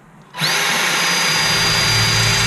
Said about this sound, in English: And I'm just gonna drill them